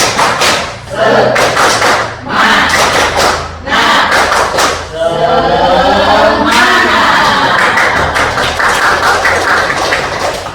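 A group performs a rhythmic spirit clap in bursts of loud, sharp claps with short pauses between, then voices chant together over the continuing clapping.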